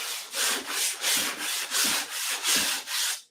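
Hand sanding on wood, close by: a steady series of rough, scratchy back-and-forth strokes, about seven in a row with short gaps between.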